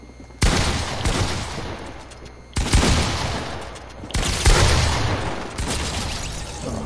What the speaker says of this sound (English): I hear him pulling out his shotgun